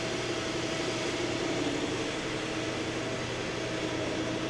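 Shizuoka Metal Master SV-4024 CNC vertical machining center with Fanuc AC motors and spindle drives running rapids and feeds, a steady continuous mechanical whir and hum with an even broadband hiss, loud and unbroken throughout.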